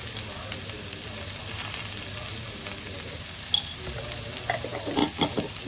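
Garlic, ginger and chili sizzling in butter in a pan, a quiet steady frying hiss with occasional stirring clinks and scrapes near the end.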